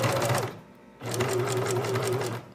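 Sewing machine running a zigzag stitch along a seam to reinforce it, a steady close whirring hum in two bursts separated by a short pause, with no talking.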